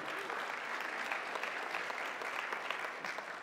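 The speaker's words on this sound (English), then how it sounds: "let's give the Lord a clap offering" A church congregation claps in a dense, even burst of applause for a clap offering during a Sunday service, steady and fairly distant throughout.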